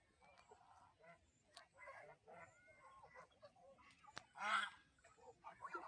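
Domestic geese foraging in paddy field water honk and cackle in scattered bursts, one louder honk near the end, over a quiet outdoor background with faint murmuring.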